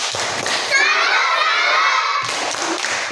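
A classroom of children performing the rhythmic 'tepuk salut' clapping chant, voices shouting together in a loud, close burst with thumping claps framing the chant.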